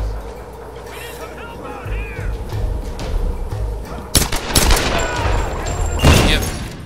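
Pistol gunfire in a Tomb Raider video game, a few sharp cracks and bursts in the later half, loud and close over game ambience, with a voice talking in the earlier part.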